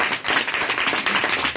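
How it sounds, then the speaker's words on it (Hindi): A church congregation at a Christmas celebration meeting claps together, close and loud, with rapid overlapping hand claps forming a dense, slightly uneven rhythm throughout. "ताली बजाओ अपने दास के लिए"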